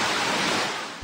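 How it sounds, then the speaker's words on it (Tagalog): Floodwater rushes fast through a flooded neighborhood in Purok Carvic, Bacolod City, Negros Occidental, making a loud, dense, continuous roar of churning water that fades slightly toward the end. "Mabilis ang ragasan ng tubig sa Puro Carvic, Bacolod City, Negros Occidental."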